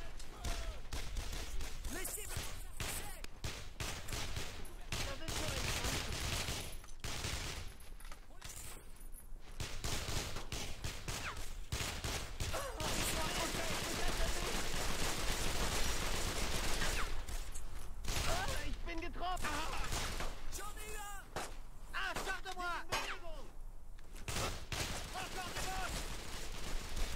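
Gunfire from the PS2 war game Brothers in Arms: Road to Hill 30, with dense, sustained bursts of rifle and machine-gun fire and scattered explosions under French-voiced game dialogue, loud and continuous throughout.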